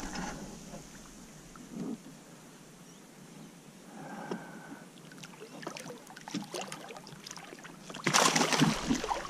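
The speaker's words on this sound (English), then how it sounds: "It's been raining all morning" Rain falls steadily outdoors on a fishing trip for flathead, bream and mud crabs, a soft broadband patter with scattered drips and knocks, rising to a louder burst of spatter near the end.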